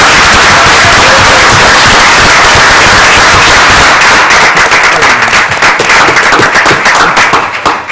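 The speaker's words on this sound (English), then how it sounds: "Let's give Mr. Buchanan a applause." An audience at a school board meeting gives loud, dense applause honoring a retiring staff member, a heavy continuous roar of clapping that turns into sharper separate claps as it thins toward the end.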